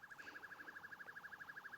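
A video game police siren in the mobile game Car Tuning 2021 sweeps up and down rapidly and steadily, a fast electronic yelp repeating about a dozen times, moderately loud with faint background noise.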